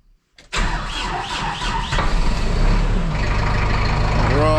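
A farm vehicle engine cranks on a cold morning and catches, roaring up loud and steady to a rough close idle after a brief moment of quiet.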